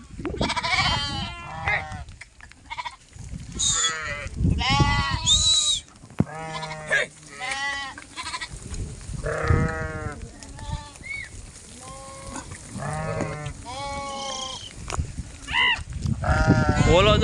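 Sheep and goats bleat repeatedly in a herd out in the Gir countryside during the rainy season, the calls overlapping, some close and loud, others farther off, across steady outdoor background noise.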